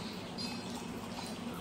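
Water pouring steadily into a shaker of protein powder mixed with water for a pre-workout drink, a continuous close trickle and splash throughout with no talking.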